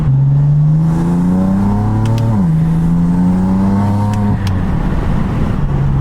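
In-cabin sound of a BMW F80 M3 fitted with titanium front-mount intakes: a steady engine drone that climbs and falls, with faint turbo spool and flutter, loud and close with no talking.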